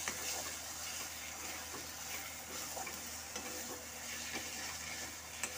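Chicken masala being stirred while it fries in a pan for a braised meat curry, a steady close sizzle with scraping stir strokes running throughout, no voices.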